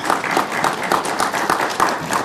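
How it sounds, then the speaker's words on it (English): Applause from an audience at a senator's speech on veterans' affairs, a dense, steady wash of many hands clapping, fairly loud and continuous, with no speech over it. "Didn't know I was going to get applause."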